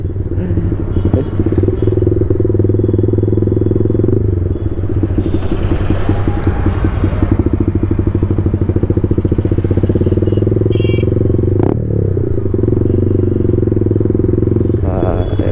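A Yamaha MT-15 motorcycle with a loud aftermarket exhaust silencer roars loudly and continuously up close, its exhaust rumbling and clattering with slight changes in revs throughout.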